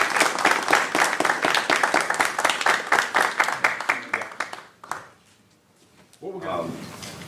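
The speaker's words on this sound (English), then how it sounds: "let's hear a nice round of applause" Clapping from an audience at a school fine arts recognition event, a dense round of applause that fills the room for about five seconds, then dies away to near silence before a voice speaks at the end.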